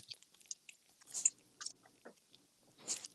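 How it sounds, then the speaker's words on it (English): A person chewing food loudly and wetly, close to the mic, with a few sharp smacks and crunchy bites spread irregularly over a few seconds, no talking. "you're chewing like a fucking pig"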